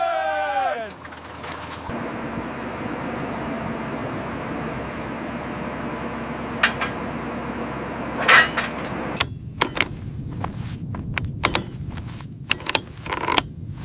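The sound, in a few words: drilling rig drilling a well in the desert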